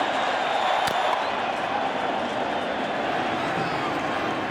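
A stadium crowd at Game 5 of the 2009 World Series, Yankees versus Phillies, roars for a curtain call after Chase Utley's home run. The cheering is steady and distant, with a sharp crack early on and a commentator talking over it.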